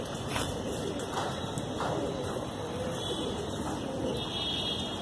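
Desi high flyer pigeons coo softly and steadily in a loft in Dombivali, Mumbai, with a high electrical whine running through and faint voices nearby.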